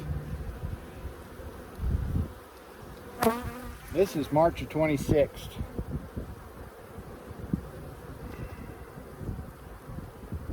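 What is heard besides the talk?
honey bees buzzing around hive during inspection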